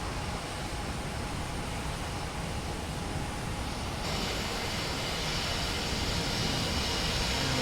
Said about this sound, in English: I'll wait for the JetBlue to go by